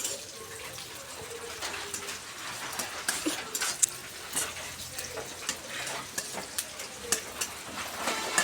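Chopped onion and green chillies fry in oil in a wok, giving a quiet, steady sizzle with small crackles and occasional stirring clicks throughout.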